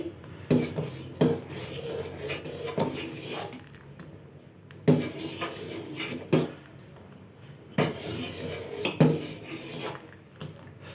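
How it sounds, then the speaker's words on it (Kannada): A spoon stirs sugar in a metal pot to dissolve it for fruit custard, scraping and clinking against the sides in repeated bursts with short pauses between, close and moderately loud with no talking. "ಸಕ್ಕರೆ ಹಾಕಿ ಚೆನ್ನಾಗಿ ಸಕ್ಕರೆ ಕರಗೋರನ್ನು ಇದಕ್ಕೆ ಅಲ್ಲಾಡಿಸ್ಕೋಬೇಕು"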